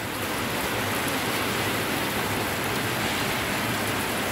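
Heavy rain pours down steadily on the day of a chariot festival, a dense, unbroken hiss that stays loud and even throughout, with no voices over it.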